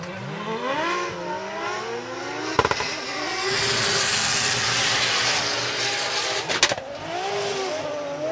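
Toyota GR86 drift cars battling side by side at a Formula Drift Japan event, engines revving hard and loud throughout with rising and falling pitch, tire squeal, and a couple of sharp bangs like backfires.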